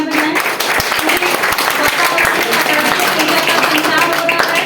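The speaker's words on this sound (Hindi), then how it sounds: "तालियां बजाएं।" An audience at a university G-20 program event claps in a dense, continuous patter, with a few sharper individual claps standing out and some voices mixed in.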